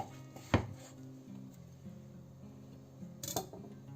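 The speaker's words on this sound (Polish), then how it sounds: "Kroimy ją teraz sobie na mniejsze kawałki, a dokładnie w kosteczkę." Knife chopping an ingredient into small cubes on a cutting board for a tortellini salad, with one sharp close knock near the start and another cluster of cuts toward the end over a quiet kitchen background.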